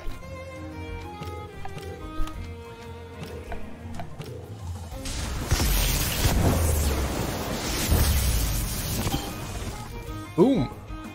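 Thunderstorm attack in the Temtem video game: a loud rumbling, crashing burst of thunder and rain-like noise swells midway and rolls on for several seconds after music, with a voice talking over parts of it.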